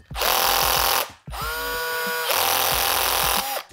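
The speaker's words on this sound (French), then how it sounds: "si je maintiens ça fermement, la perceuse ne tourne plus au-delà d'une certaine force" A cordless drill whirs in loud bursts, and the motor pitch shifts and strains as the clutch slips under load when held firmly. It is close, with brief stops between runs.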